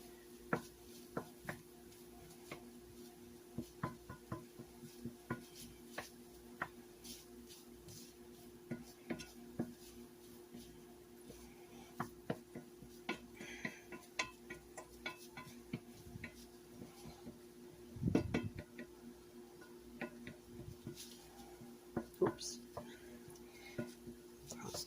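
Clattering of a utensil scraping and stirring a Sloppy Joe meat mixture around a pan, a steady run of light ticks and knocks with one louder clank near the end.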